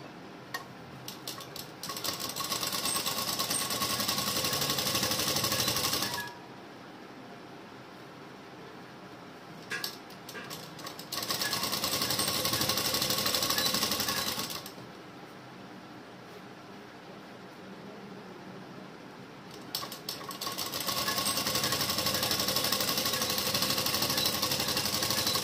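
A sewing machine stitches the side seam of a princess-cut blouse in long, fast, loud runs, stopping for quiet pauses between passes.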